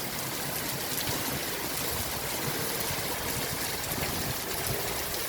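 Floodwater rushes through Jamnagar, a steady broadband watery roar that holds at the same level throughout with no voices.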